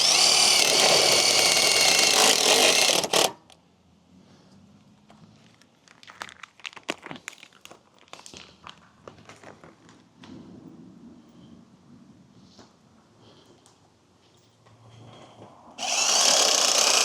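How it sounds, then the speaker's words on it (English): A power drill drives screws into an aluminum fence post, a loud steady whine at the start and again at the end, with quieter clicks and handling knocks between the two bursts. "You can feel how this is, or hear how this is drilling very hard."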